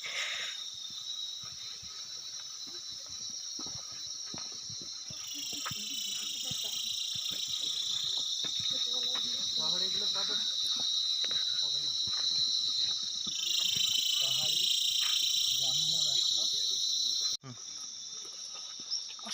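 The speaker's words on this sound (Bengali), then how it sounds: "চুপচাপভাবে থাকলে এখানে কিছু ঝিঝি পোকা ডাক শোনা যাবে" Dense, shrill chorus of crickets chirring continuously and loudly in a forest at Sillerygaon, East Sikkim, swelling slightly over time, with scattered faint rustles and soft sounds beneath.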